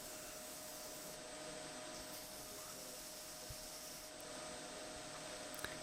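Knife handle scales being ground and profiled on a machine, a faint, steady, hissing abrasive whir that runs without a break, with a couple of tiny clicks and no voices.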